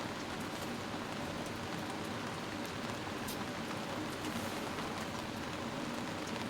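Heavy storm rain pours outside a camper van, a steady, dense hiss of drops drumming on surfaces throughout with no voices.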